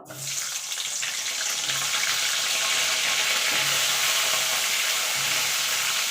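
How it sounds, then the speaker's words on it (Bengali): Cauliflower florets frying in oil in a pan for a Bengali egg and potato cauliflower curry, giving a steady, loud, close sizzle with hiss that holds unbroken from start to finish, with no talking. "এবার ফুলকপিগুলো আমি ভেজে নেব"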